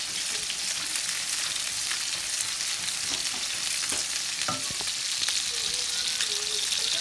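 Salmon fillets searing in a hot pan, a constant close sizzle with a few faint clicks and scrapes of a utensil, steady throughout, with no talk.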